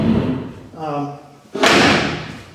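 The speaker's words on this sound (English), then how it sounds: "So I'm going to open up the door and this lever lock." Heavy historic iron jail cell door with a lever lock, swung open and slammed shut with a loud metallic clank and thud, a ringing resonance following, in a county jail, with someone talking before and around it.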